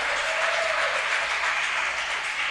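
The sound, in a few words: church congregation applause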